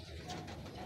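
Racing pigeons coo softly at a loft during a club race arrival in Bulacan, a low faint murmur with no talking.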